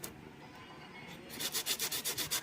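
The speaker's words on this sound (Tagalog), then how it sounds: "So ulihain lang po natin hanggang sa magflat po siya at pumantay." Hand sanding of hardened super glue on a matte black motorcycle fairing, starting faint and then turning into a quick run of about eight loud, rhythmic rubbing strokes close by.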